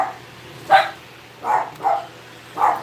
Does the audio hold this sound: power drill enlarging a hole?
no